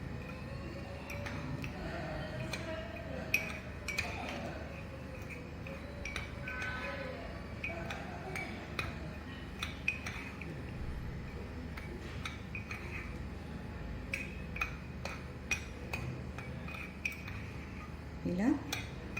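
A spoon stirs chocolate cupcake batter in a bowl, making light repeated clinks and scrapes against the sides over a quiet room background, with faint intermittent voice-like sounds in places.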